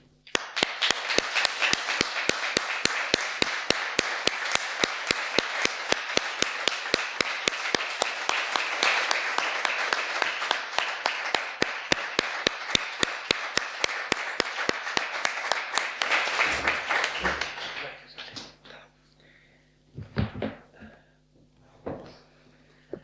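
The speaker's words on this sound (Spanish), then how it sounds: "Y le vamos a dedicar, por supuesto, no un minuto de silencio, sino un aplauso, si os parece, a Daniel." A crowd claps in steady unison, a fast regular beat held for a long stretch before it breaks up into a few scattered claps.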